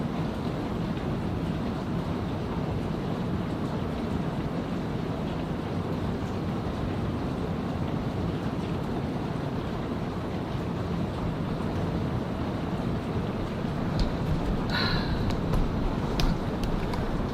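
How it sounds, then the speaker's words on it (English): Heavy rain pours steadily during a thunderstorm, a dense, broad roar that stays even and continuous throughout, heard from indoors with a few faint knocks near the end. "It's just pouring."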